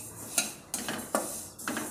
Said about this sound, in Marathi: आता हे तीळ मी अगोदर सुरुवातीला भाजून घेणार आहे।